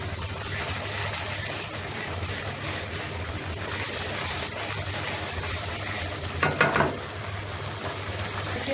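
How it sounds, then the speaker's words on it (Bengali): Meat cooking with cinnamon and bay leaf in a pan gives a steady, close sizzle with soft stirring scrapes, and a brief louder clatter of the spoon near the end. "দিয়ে এখন আম্মু নেড়ে নিচ্ছে"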